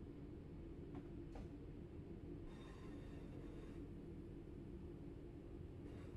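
A train pulls into platform 2 of Manchester Piccadilly in the Train Sim World 3 game, a faint low rumble broken by a few brief wheel squeals and a short screech midway.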